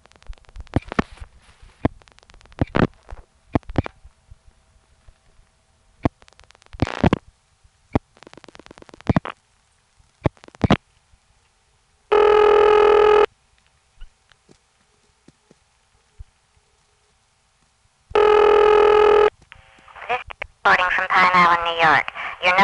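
A step-by-step telephone exchange dials to a vacant level, with rapid clicking relay pulses in bursts, two sustained tone signals, and a voice talking between them.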